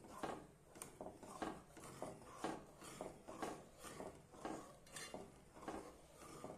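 A utensil scrapes and clinks rhythmically against a pot as thick cowpea and eggplant curry is stirred, with a faint bubbling sizzle underneath; no talking.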